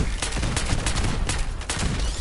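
Gunfire in the video game Fallout 76 comes as a dense, continuous barrage of loud shots that fill the whole clip with no pauses.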